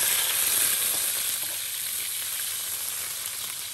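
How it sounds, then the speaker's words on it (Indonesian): Garlic cloves and small shallots frying in a little oil in a heated wok, a steady close hiss of sizzling that eases slightly over a few seconds, with no voices. "kita tumiskan bawang putih dengan bawang kecil sampai dia kekuningan"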